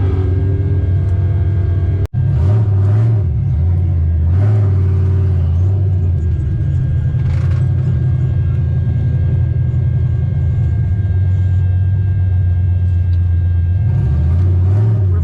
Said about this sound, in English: I got the yellow Camaro. It's a supercharged Camaro.